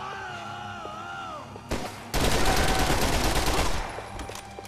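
A loud shotgun blast in the Max Payne 3 video game, followed by a dense, sustained barrage of heavy gunfire lasting a couple of seconds before it fades.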